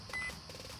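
A Hobbywing 120A electronic speed controller in an RC car gives a short, clear electronic beep during throttle calibration, heard close over faint background hiss.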